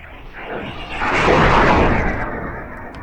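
Synthesized crackly fire texture built from white noise without flanger: a dense hiss with grainy crackle that swells to its loudest around the middle and then eases off slightly, continuous throughout.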